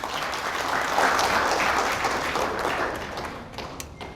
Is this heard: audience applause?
yes